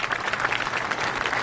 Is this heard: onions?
no